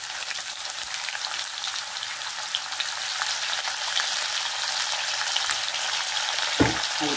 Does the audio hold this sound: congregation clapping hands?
no